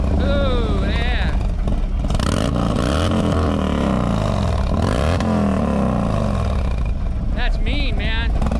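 A motorcycle engine, one of the Harley low riders or a sport bike on the street, revs in a steady, close, rumbling roar that swells and dips in pitch while people talk over it.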